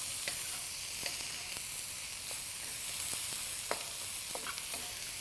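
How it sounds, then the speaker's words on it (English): A wok sizzles steadily as beef mince, noodles and carrot are stir-fried, a constant bright hiss broken by frequent short clicks and scrapes of stirring, with no talking. "you can hear that wok's still sizzling as we're cooking"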